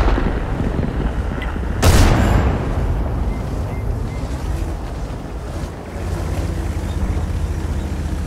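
A tank's main gun fires once with a loud, sharp blast over a constant rush of engine and wind noise, the report decaying quickly back into the steady rumble of a Leopard in a tank combat game.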